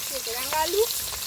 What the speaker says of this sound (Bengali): কাতলা মাছটা ভাজা হচ্ছে দেখো